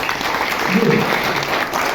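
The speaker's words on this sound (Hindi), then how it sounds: "तालियों की गड़गड़ाहट कम नहीं होना चाहिए।" Audience applause welcoming guests at a Hindi-language gathering marking a Netaji Day call, a steady dense patter of many hands sustained close and fairly loud throughout with no voices over it.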